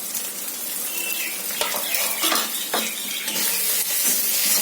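Spice masala with salt and turmeric stir-fried in a pan, a steady loud sizzle with scraping stirs and a few sharp clinks of utensil against the pan.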